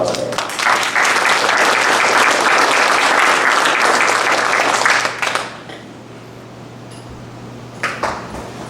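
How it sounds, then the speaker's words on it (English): Loud, dense audience applause at a community history talk on one-room schools, steady for about five seconds before stopping abruptly, followed by near silence with a brief faint burst of claps near the end. "I think we all should give her a round of applause there."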